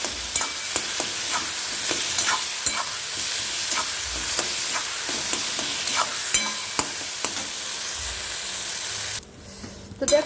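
A spatula scrapes and presses roasted eggplant into bharta in a hot pan, with repeated sharp scraping strokes and light sizzling, loud and close, ending in a brief pause and a final clatter.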